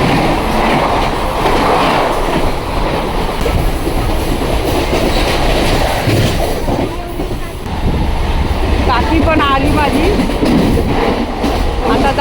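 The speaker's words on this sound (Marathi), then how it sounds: "फास्ट ट्रेन येणार आहे तिथं तीन नंबरला" A fast train rumbles loudly into a station platform with clattering wheels and a brief squeal of brakes, while people talk on the platform nearby.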